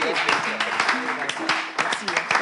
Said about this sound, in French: on vous raccompagne avec des applaudissements